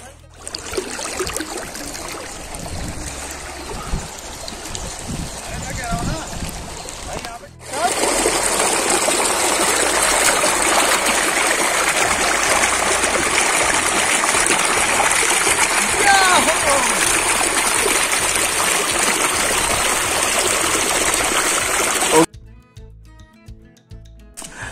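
A small waterfall stream by a river rushes and splashes in a steady, loud wash that swells partway through and cuts off near the end, with voices mixed in.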